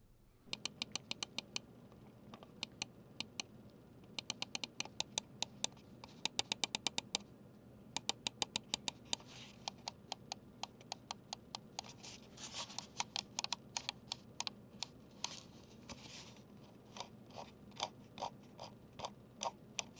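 Rapid bursts of sharp button clicks from a Redragon M916 Pro wireless gaming mouse, sometimes single, sometimes in quick flurries, crisp and close with brief pauses between runs.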